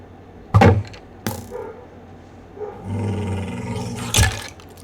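A dog growls and snarls in short bursts, with two sharp loud onsets early and a longer rumbling growl near the end, close to the listener.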